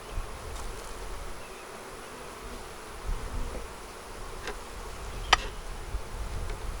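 Honeybees buzzing in an open hive during inspection: a steady, diffuse drone of many wings fills the scene at moderate level, with a few brief sharper knocks or clicks over it and no talking.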